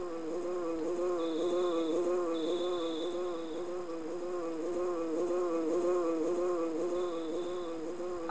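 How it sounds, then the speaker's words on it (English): A bee buzzing around in the video game Earthbound, a steady, wavering drone that warbles continuously with faint high tones on top, moderately loud and without talk. "That sounds like a bee flying around."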